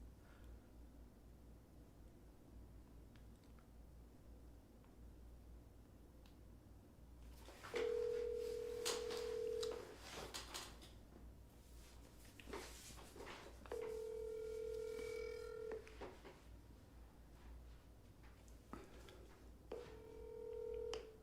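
A telephone on a live real estate wholesaling sales call plays a quiet hum, then loud bursts of DTMF dialing tones and repeated ringback tones, alone with no talking over them.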